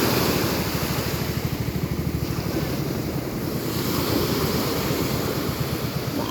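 Rough sea waves surging and crashing steadily, close and loud, mixed with heavy wind buffeting the microphone, no voices.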